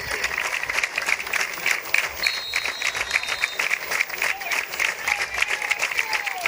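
A high school football crowd at a homecoming game in Marion claps steadily, a dense, continuous patter of many hands from the stands, with crowd murmur underneath and no clear talk.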